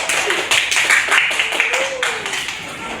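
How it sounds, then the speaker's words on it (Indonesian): A classroom group claps hands together in a burst of applause lasting about three seconds. It is loud and close, with teacher-like voices speaking over and between the claps. "Jadi tepuk tangan dulu."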